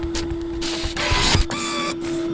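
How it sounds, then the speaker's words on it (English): An Epson ColorWorks C6500 label printer runs through a print job, a steady mechanical whir with a constant motor hum and bursts of louder feeding and printing noise, close and alone. "this one will probably print faster than the last one because the detail doesn't need to be there"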